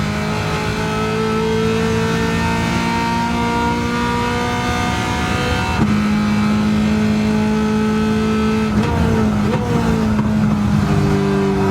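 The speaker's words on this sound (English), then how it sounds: "now straight line acceleration until we reach the Porsche Essex" The Garage 56 NASCAR Le Mans Camaro ZL1 accelerates hard in a racing video game, its loud engine climbing in pitch through the gears in a long continuous roar, with brief shift dips along the way.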